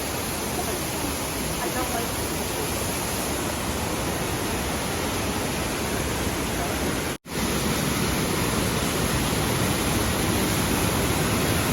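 Shower Falls in Baler, Aurora, its fine spray of water making a steady, dense hiss and roar close by, with one momentary cut partway through.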